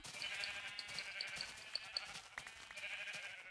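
Sheep bleat in Minecraft, several short high blips over a steady bright game background, moderately loud and with no talking.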